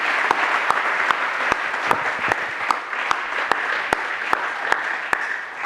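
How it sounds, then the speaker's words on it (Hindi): Audience applause for Dr Dheeraj Rastogi after his talk on joint health, a steady dense wash of many hands clapping with a few sharper claps standing out, sustained throughout. "एक बार जोरदार तालियां डॉक्टर धीरज रस्तोगी के लिए"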